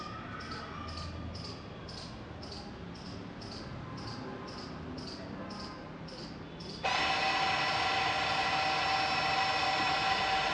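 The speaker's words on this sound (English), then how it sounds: "That's the noise of motor going back." A faint rhythmic ticking repeats, then a Volkswagen-group electric parking brake motor starts abruptly, retracting with a steady whir that runs on evenly, close by, with no speech.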